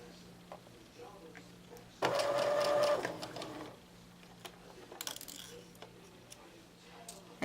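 Sewing machine stitching fabric for a pincushion, a loud whirring run of rapid needle strokes lasting about two seconds, then a shorter second burst, close by with quiet pauses between.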